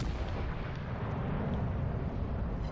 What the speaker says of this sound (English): what I'm trying to do now is just use front guns, rear guns, front guns, rear guns